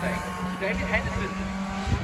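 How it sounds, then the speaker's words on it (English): A rally car passes through a stage of the East Riding Stages Rally, a 2022 club event near Beverley. The engine note is brief and sustained, and it plays under continuous commentary. "Make a bit of noise for Harry Walshaw, possibly the last car through the stage"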